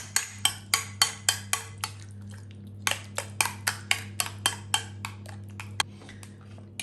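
A spoon stirs yoghurt and other ingredients in a bowl in a kitchen, with a run of sharp, quick clinks against the bowl's sides and a steady low hum behind them.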